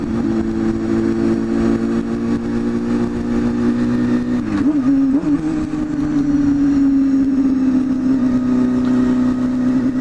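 A 250cc motorcycle engine runs continuously and loud up close, a steady droning note that dips and shifts pitch briefly midway before settling into an even, sustained tone.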